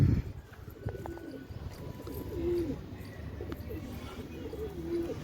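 Pigeons cooing near and far in repeated soft, throaty rolling calls over a low background rumble as the birds take off and fly, some distant chirps mixed in.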